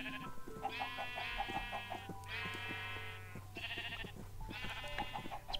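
Sheep bleat repeatedly in Minecraft, four long, nasal bleats in a row over a steady low hum, with short clicky game sounds scattered between them.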